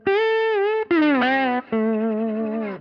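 Three distorted electric guitar notes, each sliding and bending in pitch, the slide fretting out, loud and close, with brief gaps between them.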